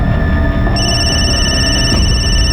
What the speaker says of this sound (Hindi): ये किसका फोन आ रहा है बार बार?